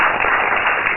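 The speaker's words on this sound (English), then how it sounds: "please a round of applause for him" Church congregation applauding a pastor of the Redeemed Christian Church of God, a dense, steady wash of many hands clapping at once, loud and close throughout with no voices standing out.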